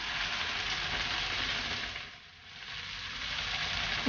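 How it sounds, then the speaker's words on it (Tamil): Okra, onion and tomato sautéing in a pan give a steady, close sizzle and hiss of frying that dips briefly midway before building back up, with no one talking. "அப்படியே எல்லாமே வெண்டைக்காய், வெங்காயம், தக்காளி எல்லாம் ஒன்று சேர வதங்கட்டும்."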